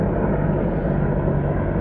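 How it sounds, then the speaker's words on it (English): A helicopter flies overhead outdoors, a loud, continuous rumbling engine-and-rotor roar that holds steady and close throughout, with no talk over it. "Excuse me for the helicopter noise flying over me"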